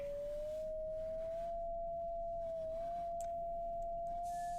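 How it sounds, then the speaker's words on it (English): A steady electronic tone from a repaired device in the puzzle video game The Room Three, two near-identical pitches sounding slightly out of sync, holding unbroken and fairly quiet for several seconds. "hearing the 2 tones just very slightly out of sync with each other"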